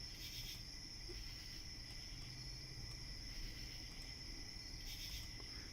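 Crickets chirp in a dense, continuous high trill against a low background rumble, steady and moderately close throughout.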